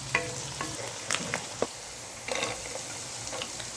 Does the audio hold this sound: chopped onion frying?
yes